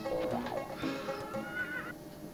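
A horse in a SNES comic-book video game gives a synthesized, wavering whinny with pitch sweeps, followed by a second rising neigh, moderately loud over a faint background hum.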